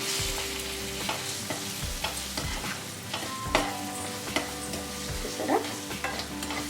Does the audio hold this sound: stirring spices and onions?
yes